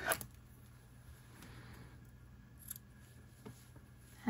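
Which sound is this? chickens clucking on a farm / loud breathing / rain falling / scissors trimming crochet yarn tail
scissors trimming crochet yarn tail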